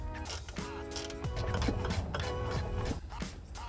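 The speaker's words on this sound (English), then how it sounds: "So we're gonna go ahead and tighten up the top nuts." A wrench works the top nuts of a car's strut during a lowering spring install, giving steady ratcheting clicks and metallic creaks close by, with no talking.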